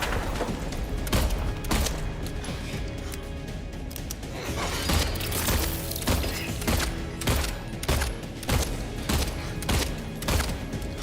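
Rapid, repeated gunshots boom in the 2024 Silent Hill 2 remake during a speedrun, forming a dense fusillade of heavy impacts with crashing, shattering hits throughout.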